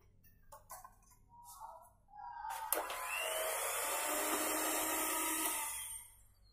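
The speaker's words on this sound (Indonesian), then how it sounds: "Nah ini udah bisa kita matikan mixer kita." Electric hand mixer whirring loudly and steadily through sponge cake batter, made with three eggs, starting after a few light clinks and running for several seconds before winding down near the end.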